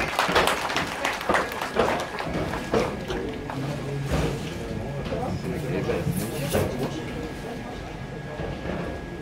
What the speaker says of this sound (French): faut les applaudir